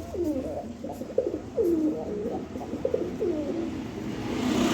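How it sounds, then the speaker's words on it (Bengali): A pair of white Bombay fancy pigeons coo close by, their soft, rolling calls repeating in short phrases over a steady low background rumble. "খুবই সুন্দর কিউট এক পেয়ার কবুতর"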